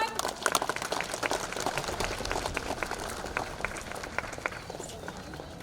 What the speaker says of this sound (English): Let us all clap, everyone.